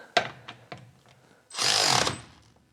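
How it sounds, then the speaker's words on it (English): Milwaukee M12 Fuel digital torque wrench fastening a bolt: a few light clicks and taps, then a short loud whirring burst of the motor driving to a set 70 foot-pound torque, close by. "so now it has torqued it down to what it thinks is as close to that 70 foot-pounds that I've programmed it at"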